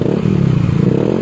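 A Yamaha NMAX 155 scooter fitted with an SKR racing exhaust is revved hard in one short, loud, close burst, a throaty buzzing drone with no talking.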